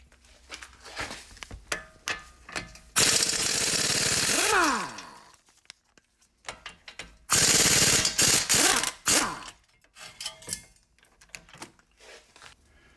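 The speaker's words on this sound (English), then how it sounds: "remove 2 bolts that hold the caliper bracket on, and these are 7/8" An impact wrench or ratchet spins off the 7/8 bolts holding the front brake caliper bracket on an Infiniti, two loud sustained buzzing bursts amid scattered clanks and clicks of tools, with no talking.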